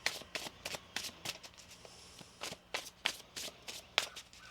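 Deck of tarot cards being shuffled close by, a rapid series of crisp riffling bursts with short pauses between, fairly quiet and with no talking.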